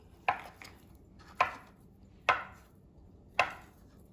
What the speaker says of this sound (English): Gonna just cut it into slices and then I'm gonna cut it into chunks.